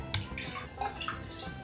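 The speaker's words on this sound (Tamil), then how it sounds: "இப்போ இந்த கடாயை கழுவியே கொஞ்சம் தண்ணி ஊற்றிடலாமா?" Water is poured into a freshly washed kadai, a short burst of splashing and trickling with a few sharper drips, close and moderately loud, no speech.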